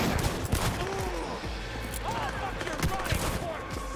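Gunfire in the video game Cyberpunk 2077, a dense spray of rapid shots over a thumping low rumble, with a few whistling tones rising through the mix.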